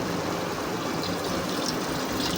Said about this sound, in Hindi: अब हम साथ ही इसमें ऐड कर देंगे तकरीबन आधा गिलास पानी